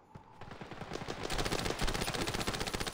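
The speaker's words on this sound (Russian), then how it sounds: "Нормально, я в него стреляю дальше." Rapid gunfire from shooting at an enemy in a video game, loud, dense bursts of automatic fire that keep building across the whole stretch, with no talking over them.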